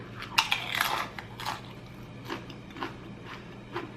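Crunchy bites into a tortilla chip dipped in fresh guacamole with onion, tomato, jalapeno and lime, a loud close crunch followed by several softer chewing crunches, no talking.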